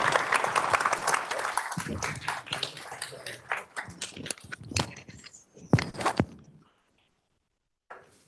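Audience applause at a Samsung climate and circularity tech reception, a burst of clapping from a modest crowd that thins into scattered individual claps and fades out, leaving near silence before one last faint sound.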